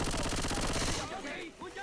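Rapid automatic gunfire from the video game Left 4 Dead 2 rattles in a dense burst for about a second, then cuts off, leaving faint game noise and a few scattered sounds.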